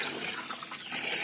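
Water pours steadily into a potted plant, a continuous close splashing flow that fills the pot without pause.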